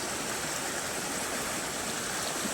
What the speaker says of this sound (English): Nice little bit of creek that would normally be pretty dry